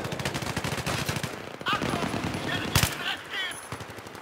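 Rapid automatic rifle fire in the video game Battlefield 3 crackles in dense, fast bursts through the first stretch, then continues more sporadically, with a voice speaking briefly amid the shots.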